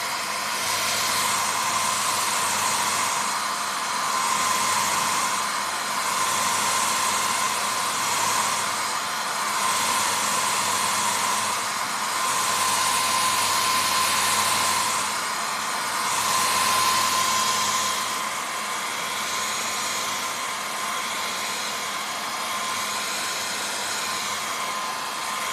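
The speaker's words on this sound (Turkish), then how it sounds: "herkesin evinde vardır saç kurutma makinesiyle bu şekilde kurutarak" A hair dryer blows steadily on glued shoe leather to warm and set the adhesive, a continuous loud airy whoosh with a faint whine, running alone without pause.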